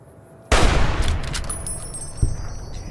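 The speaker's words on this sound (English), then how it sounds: "Maybe we can take some of them out with our rifle here." Rifle fire in Fallout: New Vegas against a cazador-infested area: a sharp, loud report lands suddenly and rings out with a long tail, followed by a second, smaller thump about two seconds later.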